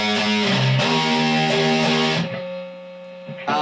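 Distorted electric guitar plays the chorus riff of a song, loud and driving with a chugging low line that thins to a single sustained note near the end.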